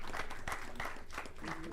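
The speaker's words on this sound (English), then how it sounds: "one big round of applause to Dr." Applause at a live interactive session on biodiversity-friendly farming, honoring an organizer: a mix of claps and crowd noise with some voices, fairly steady across the short stretch.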